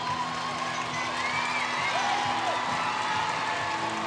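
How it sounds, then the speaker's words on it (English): Crowd at an Air Force at Denver gymnastics meet cheering on a gymnast: a steady, loud wash of voices and applause filling the whole space, with a few thin whistles rising above it. "The crowd cheering her on"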